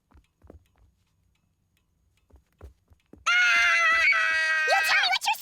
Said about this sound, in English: You tell me what you're screaming about this instant!